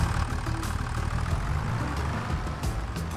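Tractor engine idling in a farming video game, a steady low rumbling drone that holds at even loudness throughout, with no talking.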